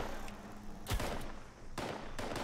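Two separated gunshot bursts in the video game Fallout 76, fairly faint and distant-sounding, with a low thump on the first and a quieter rumble between.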